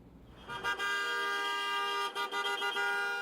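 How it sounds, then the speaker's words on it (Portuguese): Car horns blaring at a honking protest near Catetinho in support of striking truckers, joined by motorcyclists and school van drivers; a sustained, loud chorus of overlapping horns with brief dips, no talk. "O buzinaço começou nas primeiras horas do dia, próximo ao Catetinho"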